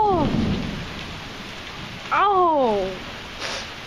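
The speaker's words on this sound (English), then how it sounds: "It's just like an endless lightning storm, and occasionally there's a big boom of thunder. It is raining like crazy." Heavy rain pours steadily through a violent thunderstorm with near-constant lightning, while loud booms of thunder roll in over the downpour; no one speaks.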